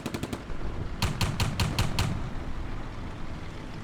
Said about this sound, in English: there are some guns being used